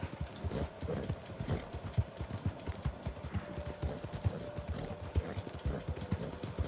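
Horse hooves clip-clopping in the video game Red Dead Redemption, a steady, rhythmic trot of distinct hoof thuds with faint background game ambience and no talk.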